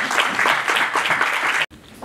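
An audience at a job forum applauds to welcome a speaker, a dense, fairly close burst of clapping that cuts off abruptly near the end.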